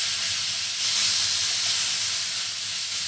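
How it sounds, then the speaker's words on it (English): Pieces of pork hit a hot stir fry pan and sizzle in a loud, steady hiss close by, with no voices. "let me throw a piece of pork in here. Hear that sizzle?"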